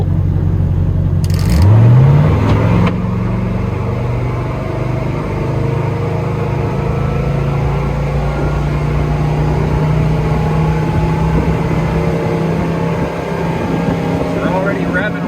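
A motorboat fitted with a 14x21 four-blade aluminum prop accelerates hard, its engine rising in pitch and then holding a loud, steady drone over wind and water, with a voice heard briefly.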